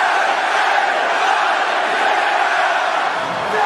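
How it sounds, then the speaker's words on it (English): A wrestling arena crowd roars and yells in a loud, sustained wall of cheering, with no single voice standing out. "The crowd is fired up"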